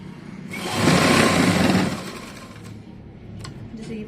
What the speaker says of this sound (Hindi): हमने सिलाई पूरे पर लगा देनी है।